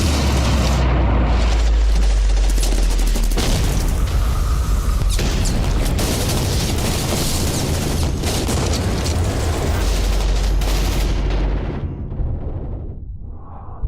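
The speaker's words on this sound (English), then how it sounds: "Troops in contact, taking heavy fire, need backup now!" Heavy combat fire sounds as a continuous barrage of loud, close booms and blasts, with dense rumbling low end. It fades and thins out near the end.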